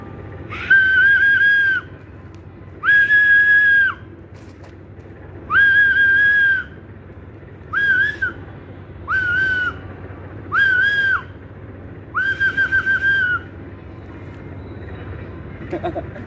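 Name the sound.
whistling imitating a bird call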